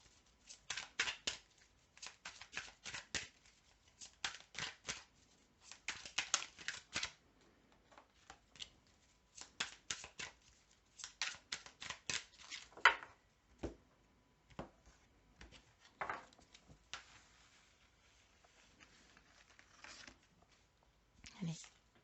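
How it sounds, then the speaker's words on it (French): Tarot cards are shuffled by hand in quiet, repeated bursts of soft riffling and flicking, clustered in irregular bunches with short pauses between. "Là, on va tirer 3 cartes."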